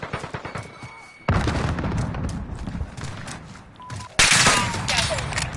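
A frag grenade blast in the Warzone video game lands with two sudden loud booms amid ongoing gunfire and battle noise, with a player voice talking over the action.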